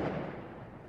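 Gunfire crackles through the streets of Bijeljina as a dense, continuous burst of sharp reports, loud and rough, with no pauses across the short stretch.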